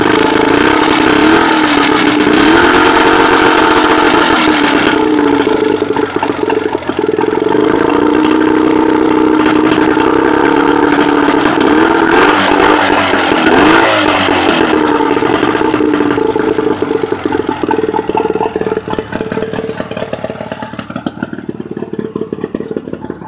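A boat motor runs steadily with manual throttle control, its loud droning engine note dipping and rising in pitch as the throttle shifts, with clattering mechanical noise throughout and no talking.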